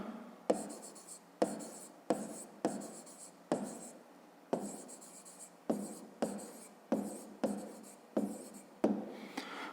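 Pen strokes on paper as a math solution is written out by hand, a quiet close series of about a dozen scratchy bursts separated by short pauses, with no talking.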